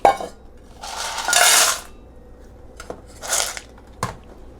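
Nugget ice from a EUHOMY L1 Pro countertop ice maker being scooped and poured into another container, heard as a few separate bursts of rattling, clinking ice with short knocks between them, close and alone.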